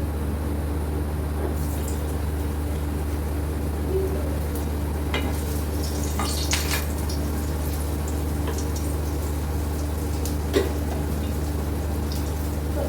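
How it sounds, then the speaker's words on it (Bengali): Beef kebabs frying in hot oil, a steady low sizzle and bubbling throughout, with occasional faint clicks and pops from the pan. "এখন আমি গরম তেলে ভেজে নেব"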